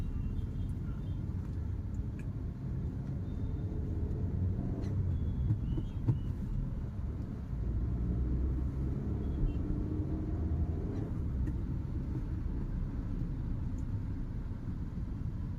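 Constant road traffic near Aamnevara Park on a Pune highway, a low continuous rumble of passing cars and engines at a steady level, with no voices.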